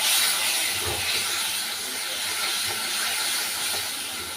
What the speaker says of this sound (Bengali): এর মধ্যে অল্প একটু জল দিয়ে দিচ্ছি যাতে মশলাগুলো পুড়ে না যায়